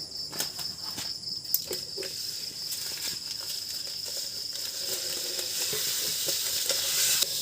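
Prawns frying in a pan with cumin and dried chilli give a steady, soft sizzle with scattered light crackles and scraping stirs, building slightly louder toward the end.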